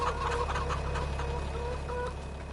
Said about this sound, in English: Lots of chickens. 170 chickens we've got now from my last count.